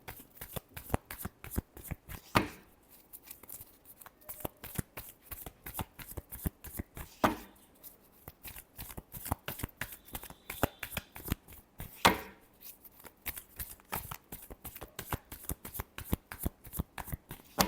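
Tarot cards shuffled steadily for a long stretch, a fast rhythmic run of crisp riffling slaps, close and fairly quiet, with a few sharper snaps where the deck is squared.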